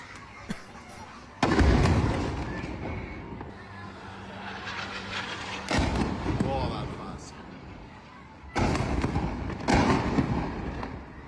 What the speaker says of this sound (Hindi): अमेरिकी एयरबेस के पास ये धमाका हुआ है।